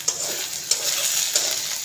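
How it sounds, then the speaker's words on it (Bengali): Onion, ginger and garlic frying in a pot on the stove, a steady close sizzle broken by three regular scraping stirs of a spoon, with no talking. "পেঁয়াজ আদা রসুন এগুলো আগে ভাজা নেই"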